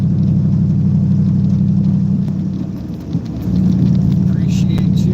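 A car rolls along Route 176 in Down East Maine, a steady low road rumble filling the interior, briefly dipping near the middle before returning at full, even strength.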